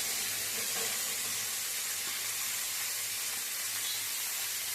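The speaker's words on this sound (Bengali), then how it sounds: "এবার এটাকে ভালো করে নাড়া চাড়া করে কষিয়ে দেবো" Cumin and coriander powder frying in a hot pan for a vegetarian Katowa drumstick labra, giving a loud, continuous hissing sizzle close up, with no voices.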